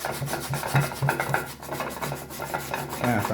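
Food rubbed against a sharp grater in a home kitchen while making a Jamaican breakfast, giving a steady run of close, rough rasping strokes with a few brief pauses.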